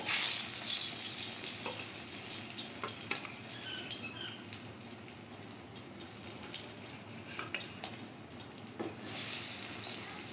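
Stuffed ash gourd slices frying in oil, a dense, loud hissing sizzle that runs throughout, with small crackles and pops scattered over it; no voices.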